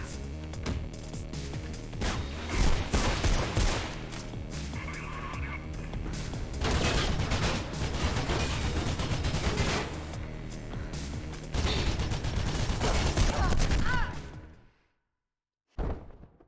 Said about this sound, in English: Oh shit, they have a goddamn machine gun.